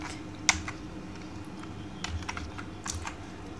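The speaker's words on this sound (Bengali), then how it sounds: "আইপি কনফিগ লিখে আমি এখন ইন্টার দেব" Keys are typed on a computer keyboard to enter a command: scattered light clicks close by, one sharp keystroke and then quieter irregular taps, with no talking.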